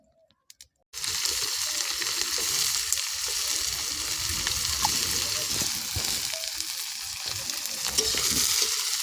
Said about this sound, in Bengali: মশলা আমাদের ভাজা হয়ে গেছে, ভাজা ভাজা হয়ে গেছে প্রায়। এখন আমরা এর মধ্যে দিয়ে দেব পেঁয়াজ কুচি।